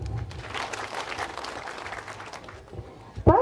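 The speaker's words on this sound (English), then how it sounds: "let's give them a clap" Delegates at a Sacco general meeting clap in a scattered, moderately distant round of applause, fading toward the end before a sharp close thump.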